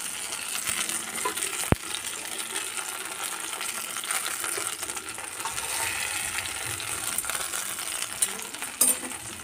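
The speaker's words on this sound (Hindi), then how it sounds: "और दूसरी तरफ भी फ्राई होने दूंगी।" Eggplant slices frying in oil in a pan, a continuous hissing sizzle held steady throughout, with one sharp metallic clink early on and a few faint clatters near the end, no voices.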